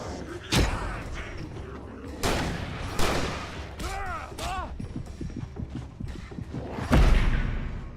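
Shotgun blasts in the horror video game Alan Wake Remastered, a few loud booming shots spaced several seconds apart over a dense game soundscape, with a voice briefly talking.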